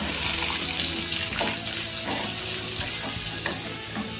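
Garlic and onions sizzle steadily in hot oil for red chutney, a dense broadband crackle with occasional stirring scrapes, close and continuous throughout with no talking.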